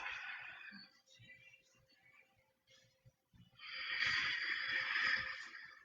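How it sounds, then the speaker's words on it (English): Ujjayi breathing during a yoga flow: long, hissing breaths drawn through a narrowed throat, one steady breath in the first second and a louder, sustained one later, close to the listener. "not forgetting that ujjayi breath"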